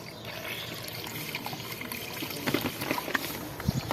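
Water trickles and splashes quietly in an uneven stream, with small sharp drips and plops growing more frequent toward the end.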